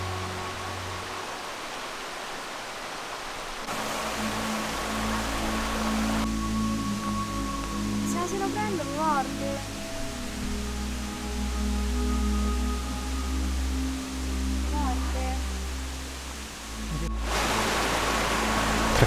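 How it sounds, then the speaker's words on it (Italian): Rushing water echoing between the rock walls of a deep canyon, a loud steady broadband roar that shifts abruptly in tone partway through, with faint tonal sounds underneath. "con il rumore dell'acqua amplificato dall'eco e dalla roccia"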